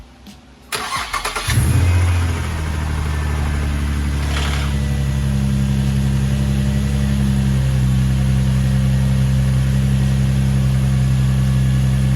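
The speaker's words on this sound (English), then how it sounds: "I'm gonna turn the car on, see if there's any leaks." An Infiniti G35 Coupe engine cranks and starts, then settles into a loud, steady idle with a brief rev early on, continuing unbroken.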